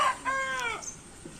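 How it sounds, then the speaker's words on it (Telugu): A young rooster of an aggressive fighting breed, only recently started crowing, lets out a single short, thin crow, heard close by and fairly quiet. "ఈ మధ్య ఒక 2 weeks నుంచి కూత వేయడం అనేది జరుగుతుంది"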